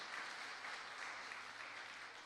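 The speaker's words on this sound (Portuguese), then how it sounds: "Pode aplaudir a Jesus." A church congregation applauds during a sermon. The clapping is steady and continuous, and it sounds faint and distant.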